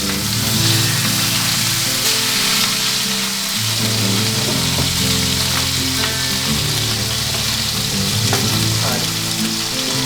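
Steak sizzles and fries steadily in a hot pan at home, a loud, dense crackle running the whole time with no talk over it.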